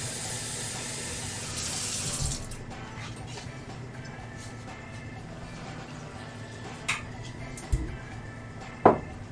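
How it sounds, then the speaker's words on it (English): Liquid is poured into a pan of simmering lentils on the stove, giving a short splash over a steady bubbling background, followed by a few faint clinks of cookware. "Maybe add a bit more liquid to that pan."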